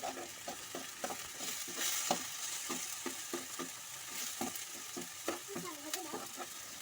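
Ginger-garlic paste sautéing in a pan for fish curry, a soft steady sizzle with regular scraping strokes of a spoon stirring, fairly close and quiet, with no talking.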